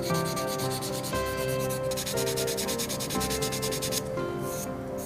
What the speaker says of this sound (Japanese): 合わせ目はスティックヤスリなんかで、まあスポンジヤスリでもいいかな。